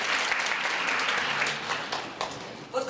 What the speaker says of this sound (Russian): Вот все аплодисменты нашим музыкантам.